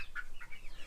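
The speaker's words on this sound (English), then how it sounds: "This one here is laying an egg." A hen clucks while laying an egg, giving two or three short, close, faint clucks in under a second.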